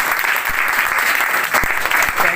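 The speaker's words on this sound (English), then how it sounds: "Clap for him." A classroom group claps for a small child learning English, dense steady applause from many hands close by for a couple of seconds.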